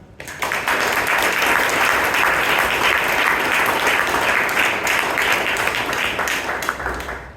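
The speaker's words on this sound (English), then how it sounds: "please one more round of applause for her" A large audience at a Toastmasters club meeting in Bangalore breaks into sustained, even applause that fills the room and holds steady at full strength for several seconds before easing off at the end.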